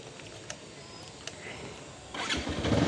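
A vehicle engine that had been giving trouble cranks with a few sharp clicks, then catches and rises into a steady, louder running rumble near the end, close by.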